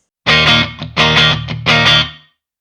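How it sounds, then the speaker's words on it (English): Electric guitar through a Neural DSP Nano Cortex with ambience room reverb plays three loud strummed chords with short picked notes between, each ringing out with a roomy reverb tail that fades to silence. "Let's try the ambience reverb. So that's kind of like a room reverb, really nice."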